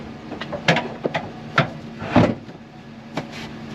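A DEWALT tool box slides into the bed of a truck with a short run of hard knocks, scrapes and clunks, plastic against metal, close to the microphone, and no speech.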